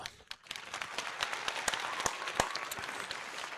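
Fans at a Phillies game against the Cardinals clap in scattered, uneven bursts, distinct hand claps rising out of a low crowd murmur.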